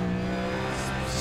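Race car in iRacing spinning out on a NASCAR road course at Circuit of the Americas, a steady loud engine drone with a brief hint of tire scrub, heard alone.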